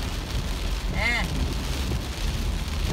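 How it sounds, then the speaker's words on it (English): Rain falls steadily on a rainy day outside a Publix supermarket, a continuous broadband hiss throughout, with a brief whistling chirp near the middle. "we got the rain coming down"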